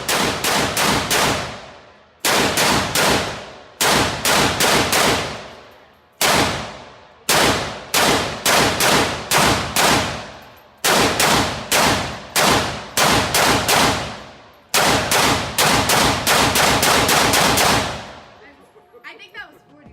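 Rapid bursts of AK-47 rifle fire ring out loud and close, in about eight strings of quick repeated shots separated by short pauses, with no talking.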